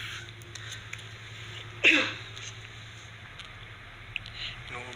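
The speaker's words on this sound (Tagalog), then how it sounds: "Inuubo tayo mga boss" A single short cough at close range cuts through steady room hum during a wiring-diagram lesson for two alternately operating motors, followed by quiet background.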